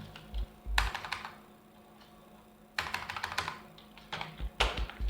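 Typing text on a computer keyboard, with two fast bursts of close key clicks separated by a quiet pause and a third burst at the end.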